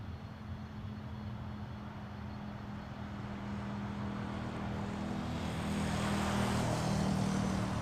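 A WestJet Boeing 737-800 jet at Toronto Pearson Airport at night, heard as a steady, broad engine roar at a distance that gradually swells louder, with a low droning hum underneath and no voices.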